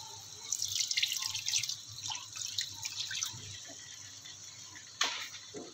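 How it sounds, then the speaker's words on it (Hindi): Water poured into kofta curry, about half a glass, streaming and splashing with bright wet crackle for a few seconds, then quieter stirring-like sounds and a final sharp clink or splash near the end; close and fairly loud, no talking. "अच्छी तरह भूनने के बाद अब हम इसमें ऐड करेंगे हाफ गिलास के करीब पानी।"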